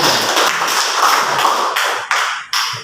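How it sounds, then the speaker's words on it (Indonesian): A small group clapping hands in a classroom, a brisk burst of applause that thins out into a few last separate claps near the end. "Tepuk tangan."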